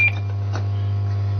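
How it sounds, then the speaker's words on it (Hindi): On the junior quiz show Genius Kaun, a contestant's buzzer sounds as one loud, steady low electric buzz that holds unchanged for over a second, with a brief faint beep at its start. "कंटेस्टेंट नंबर 4 गौरव ने बजर प्रेस किया है।"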